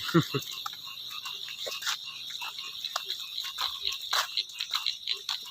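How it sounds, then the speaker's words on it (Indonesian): A chorus of frogs croaks steadily in a dense, rhythmic pulse from rice paddies after rain, with a constant high insect-like drone layered over the night ambience. "suara katak"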